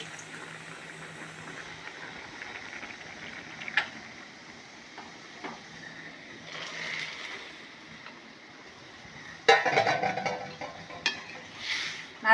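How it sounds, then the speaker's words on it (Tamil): Black-eyed pea curry boils in a pot, giving a steady, soft bubbling and simmering hiss with occasional louder bursts of sputtering near the end, fairly close and without talk. "நல்லா கொதிச்சிருச்சு பாருங்கள்"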